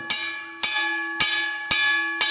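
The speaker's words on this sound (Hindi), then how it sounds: "10 पर घंटी लग जाती है स्नान की।" A gurukul bell struck five times at an even, steady pace, each ring loud and close with a bright metallic tone that fades before the next strike, with no voices.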